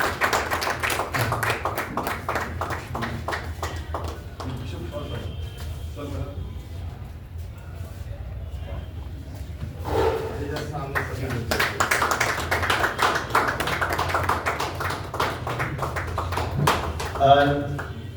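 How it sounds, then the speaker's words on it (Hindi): An audience at a Hindi award ceremony breaks into applause, with bursts of clapping rising and falling over about eighteen seconds while people talk and call out over and between the rounds. "बहुत अच्छी तालियां बजा दीजिए आप लोग।"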